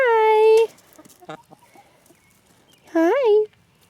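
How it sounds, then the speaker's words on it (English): Backyard hens in a coop cluck and call near the listener, with two drawn-out vocal bursts at the start and end and a few short clucks between, while a person greets them. "Hey, chickens."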